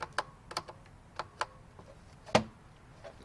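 Restored 1984 Macintosh 128k keyboard being typed on: a handful of sharp, separate plastic key clicks at an uneven pace, one louder clack near the end, close and in quiet surroundings.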